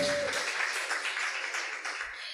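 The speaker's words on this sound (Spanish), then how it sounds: "Dale este aplauso a Jesús." Church congregation clapping during a Sunday service, a brief burst of applause that starts full and gradually thins and fades.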